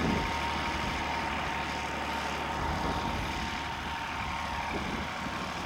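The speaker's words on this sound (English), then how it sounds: "On days like this, you'll find him on his tractor, cultivating the ground." Out in a field on the Avalon Peninsula, a farm tractor's engine runs steadily while cultivating the ground, a continuous low rumbling drone heard fairly close with no talk over it.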